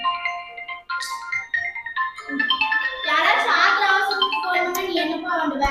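A phone rings with a bright melodic ringtone that swells and continues steadily, overlapping a person's voice talking close by.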